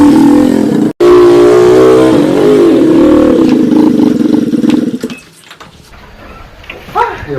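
A black automatic scooter roars along a roadside, its engine loud and close for several seconds before fading away quickly as it speeds off into the distance, with voices nearby.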